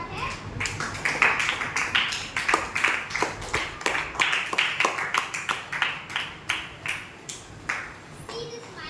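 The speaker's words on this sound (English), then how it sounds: "Clap your hands for her." A school audience at a Teacher's Day event claps their hands in a rapid, sustained patter of applause that gradually thins out toward the end, fairly close.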